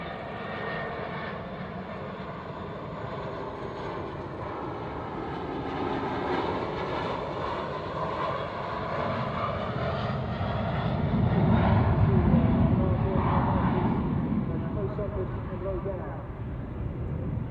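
Korean Black Eagles aerobatic jets roar past at an air tattoo, a broad continuous engine rumble that swells toward the end, with a commentator's voice talking over it throughout.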